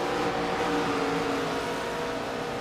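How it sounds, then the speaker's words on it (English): Race car engine from a sim racing game at Daytona International Speedway, a steady droning whine with layered engine harmonics that holds constant and loud throughout, with no clear pass-by swell. "Lap car is coming by."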